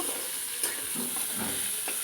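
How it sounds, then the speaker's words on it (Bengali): Soft, continuous sizzling of pointed gourd frying in oil, with a few light scraping sounds of stirring. "আমি পটলগুলো ভেজে নিয়ে আসছি"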